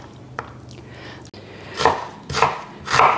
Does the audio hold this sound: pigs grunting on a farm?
no